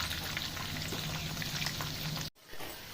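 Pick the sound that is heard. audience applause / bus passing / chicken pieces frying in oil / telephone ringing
chicken pieces frying in oil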